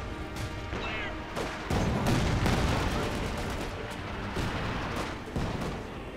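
Infantry guns fire during a fierce battle in the World War II strategy game Company of Heroes 2, with dense bursts of gunfire, crashing blasts and explosions heard throughout under a commentator's voice.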